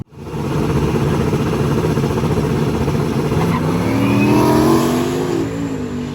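A Chevy truck and a turbo LS hot rod drag racing on a street, engines roaring loudly and steadily for several seconds as they accelerate hard, the pitch climbing through gear changes.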